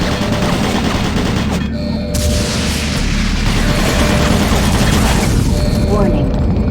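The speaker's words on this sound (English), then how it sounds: "Warning, automated turret guns online." Automated turret guns in Doom 3 BFG Edition fire in dense, rapid bursts amid a chaotic battle, loud and close, with booming impacts layered over a continuous rumbling din and a brief lull partway through.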